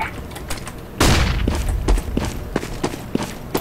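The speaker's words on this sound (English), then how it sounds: "Throwing a flashbang." A flashbang grenade bursts in a CS:GO match on the Office map, a sudden loud boom followed by a rushing burst, with sharp gunfire-like clicks and thuds continuing after it.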